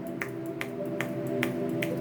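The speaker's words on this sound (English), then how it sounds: "snapping your fingers" Fingers snapping in a steady rhythm, five crisp close snaps about every 0.4 seconds over a humming tonal background, no talking.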